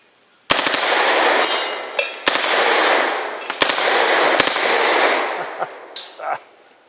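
An HK MP5 9mm submachine gun fires several loud, close bursts outdoors at a target, each a rapid rattling volley lasting about a second, separated by brief pauses.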